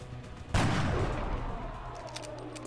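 A single heavy sniper shot in the XCOM video game booms loudly and sharply, then decays into a long rumbling tail that fades over the next two seconds.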